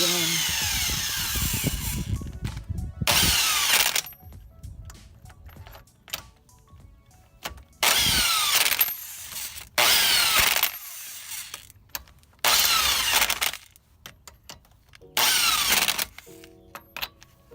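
Pneumatic impact gun fastening wheel studs on a hub, firing in several loud, close bursts of about a second each, separated by quiet pauses.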